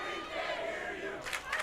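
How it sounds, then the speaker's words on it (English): Baseball fans of Winfield shouting and taunting from the stands during a Class AA championship game, a sustained crowd roar with a few louder yells near the end. "The Winfield fans coming alive here."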